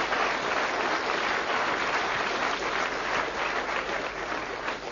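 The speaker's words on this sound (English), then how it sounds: "Give him a nice round of applause." A club audience applauds at a comedy night, a dense, sustained wash of clapping filling the room at an even, fairly loud level.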